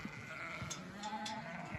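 Sheep bleat faintly in the distance in the Nurhak mountains under dark rain clouds, a few wavering calls over a low, steady background hum.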